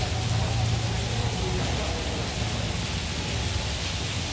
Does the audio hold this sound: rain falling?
yes